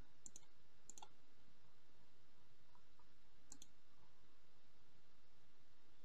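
Mouse clicks selecting items in the Royale High game menu, a few quick sharp clicks in pairs early on and again later, over faint background hiss.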